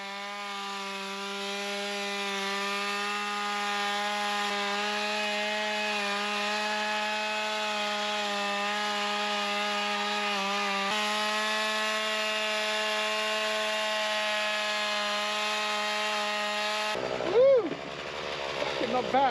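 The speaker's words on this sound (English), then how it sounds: "So if you want to learn a little bit about freehand chainsaw milling" A chainsaw milling wood freehand, its engine holding a loud, steady droning whine for about seventeen seconds before cutting off abruptly, followed by brief scattered noise.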